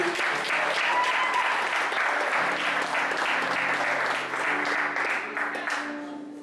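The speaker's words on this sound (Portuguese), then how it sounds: "Uma salva de palmas para o nosso Deus." A church congregation at a youth service claps in a full, sustained round of applause with faint voices mixed in, tapering off near the end as a low tone lingers.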